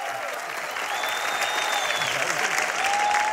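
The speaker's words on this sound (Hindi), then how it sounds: "जोरदार तालियां" A studio audience at a televised comedy show breaks into sustained, dense applause with crowd noise. It stays even and loud throughout, with a faint tone running through it.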